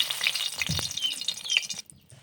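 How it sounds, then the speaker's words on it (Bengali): Dried red chillies hit hot mustard oil with a brief burst of crackling spits and a soft sizzle, loud at first, then cutting to near silence after about two seconds. "তেল গরম হয়ে গেছে ফোড়নে দিয়ে দেব শুকনো লঙ্কা"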